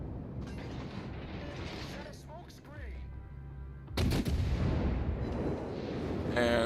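Cruiser gunfire from World of Warships, a USS Cleveland engaging another Cleveland: booming cannon blasts and rumbling detonations, with a heavy salvo midway, mixed with game effects and mechanical sounds.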